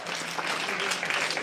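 An audience at a North Karnataka comedy and mimicry show breaks into loud, dense applause, a continuous burst of clapping with some voices mixed in.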